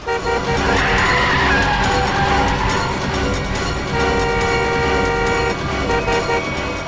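A speeding car with failed brakes skidding on a road: a loud, continuous engine roar with squealing tire tones and a honking horn, no talking.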